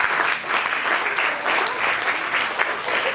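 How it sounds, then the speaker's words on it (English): A school assembly crowd applauds a student, a dense, steady round of clapping from many hands that fills the whole stretch at an even, lively level. "You definitely require a round of applause for that."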